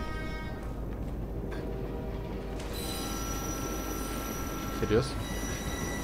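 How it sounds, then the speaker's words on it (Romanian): Metro train approaching in Assassin's Creed Unity, a rising rumble with tonal wheel and rail whine growing louder, a brief squeal near the end, and a short spoken exclamation over it. "Vine metrou, vine metrou."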